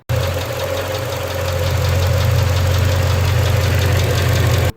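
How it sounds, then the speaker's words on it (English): A Mercedes E55 engine idles loudly and steadily up close, with a faint regular ticking from a seized hydraulic lifter running through the low hum. "I hear a loud clicking noise from this side, which is probably just a hydraulic lifter"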